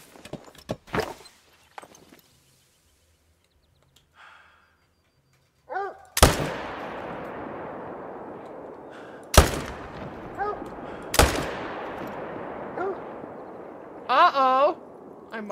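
Sharp rifle shots ring out while hunting whitetail deer in a video game. Three or four loud cracks are spaced seconds apart with long echoing tails, and quieter footsteps and other noises come in between.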